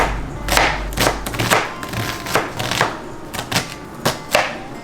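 A knife thinly slicing onions on a cutting board, a run of about a dozen sharp, close chopping taps at an uneven, brisk rhythm with short pauses between strokes.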